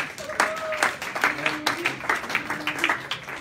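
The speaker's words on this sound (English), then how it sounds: "Round of applause for Mike." A small audience at a talk claps for a volunteer called up on stage, with scattered, uneven claps mixed with voices and chatter, moderately loud and fairly close.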